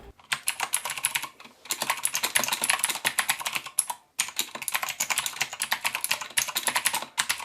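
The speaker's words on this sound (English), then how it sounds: "We'll do a quick sound test for you now, as we know you're eager to hear what this keyboard sounds like." Fast mechanical typing on a Corsair K95 Platinum RGB XT keyboard with Cherry MX switches, dense bursts of crisp clicky keystrokes close up, pausing briefly twice, with no voice.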